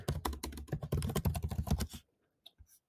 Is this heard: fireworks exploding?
no